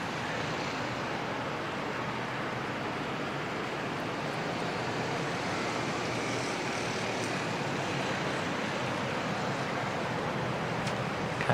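Jetstar airliner coming in from Melbourne to land at Sydney Airport in wet, windy weather, a faint broadband engine rumble mixed with wind noise, steady and distant with no voices.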